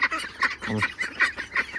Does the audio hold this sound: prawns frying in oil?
no